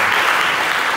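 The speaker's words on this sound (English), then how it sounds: "please put your hands together for him again" An audience claps steadily and densely at a live speaking event, a loud continuous wash of hands with no voices over it.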